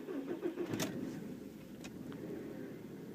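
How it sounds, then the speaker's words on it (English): A Volkswagen engine cold-starts: a brief cranking whir gives way to a catch and a steady, moderately loud idle, with a couple of faint clicks afterward. "there we go, we'll start the engine"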